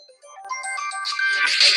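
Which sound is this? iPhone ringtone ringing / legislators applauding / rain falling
iPhone ringtone ringing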